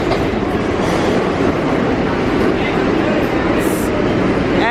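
A crowded New York City subway station fills with a dense, loud, continuous roar of train and rail noise, with a faint high squeal near the end and muffled crowd sounds underneath.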